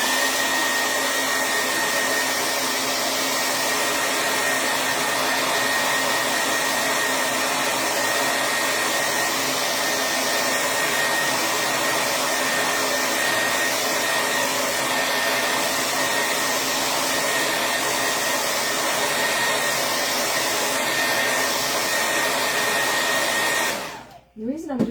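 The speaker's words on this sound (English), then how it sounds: "I'm going to dry it a second." A hair dryer blows steadily on craft ink for about twenty-five seconds, a loud, close, unbroken whooshing drone that cuts off abruptly at the end.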